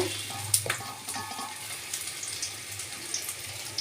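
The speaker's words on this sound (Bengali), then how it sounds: "এখন আমি চিকেন পকোড়া করছি। গরম গরম চিকেন পকোড়া।" Chicken pakoras frying in hot oil make a bright, close, continuous sizzle with crackling pops and a few clinks, and no one speaks.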